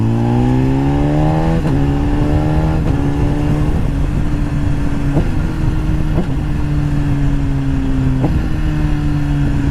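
A 2014 BMW S1000RR HP4 motorcycle engine revs hard and loud through repeated rising pulls. Each pull breaks off with a quick shift as the auto-blip shifter works, and the engine roars continuously with no voices.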